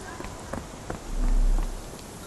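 Steady rain falling over the London docks in the Sherlock Holmes: The Awakened game, a continuous hiss with a few faint footsteps and a low rumble swelling briefly in the background.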